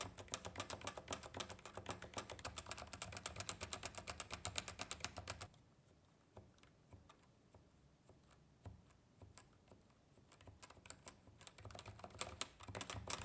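Typing on a CM Storm NovaTouch TKL keyboard, rapid dense key clatter for several seconds, then sparser, quieter keystrokes before another quick burst; close and with no talking.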